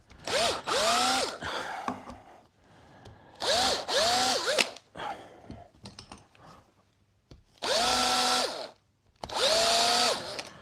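A power drill drives screws into a split chestnut gate latch in bursts: four loud, close whirring runs with rising and falling motor pitch, separated by quiet pauses and light handling clatter.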